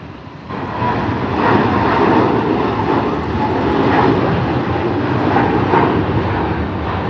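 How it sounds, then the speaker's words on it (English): A Cathay Pacific Boeing 777 jet departs LAX with a steady, loud engine roar. The broadband rumble swells slightly, then holds, with no talk over it. "now we have a Cathay Pacific, Boeing 777 departing"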